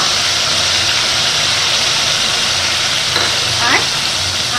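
Onion paste frying in a pan with whole garam masala spices, cardamom and cinnamon, produces a loud, dense, continuous sizzle, with a brief scrape or clink near the end and no talk.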